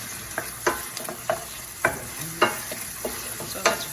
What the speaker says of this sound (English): here's our onions cooking